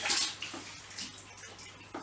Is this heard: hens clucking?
no